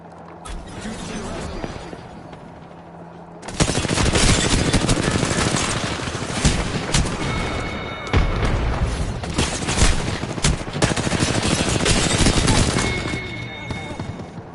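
Apex Legends gunfire: after a few quieter seconds, a loud sustained stretch of rapid shots, bursts and booms from a close-range firefight, with occasional voices mixed in.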